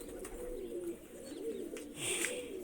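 A pigeon cooing nearby, soft low rolling coos repeating in a short rhythm, fairly quiet, with a faint higher chirp near the end.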